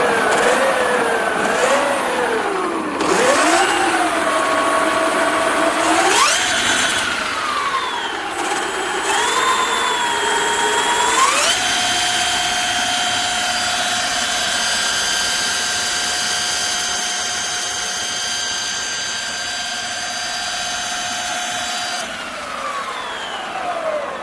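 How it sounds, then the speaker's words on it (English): Electric motors running on a 1/3 scale V10 RC car, a loud, close whine that rises and falls with several quick revs, then holds a steady high pitch for a long stretch before easing down at the end. "I'm just going to put the electric motors on, so cover your ears up if you've got headphones on."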